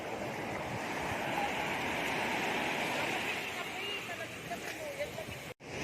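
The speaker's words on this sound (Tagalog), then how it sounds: "Yan gusto ko may alon." Ocean waves wash steadily against the shore at Dinggalan, a broad continuous surf roar heard at moderate level with no clear breaks.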